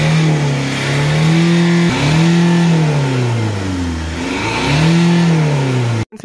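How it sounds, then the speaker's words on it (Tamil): A Toyota Etios engine, its EGR being cleaned, is started and revved up and down repeatedly, rising and falling whines close by, then it cuts off abruptly at the end. "இப்போ நான் வண்டி ஸ்டார்ட் பண்ணி உங்களுக்கு பிளாக் ஸ்மோக்கை காட்டுறேன்."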